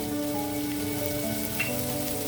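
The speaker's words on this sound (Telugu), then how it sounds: "ఇది కొంచెం వేడెక్కిన తర్వాత నేను ఇందులో కొద్దిగా అల్లం వెల్లుల్లి పేస్ట్ వేస్తున్నాను" Ginger garlic paste frying in a hot pan, a dense continuous sizzle with crackling spatter, close and steady throughout with no talking.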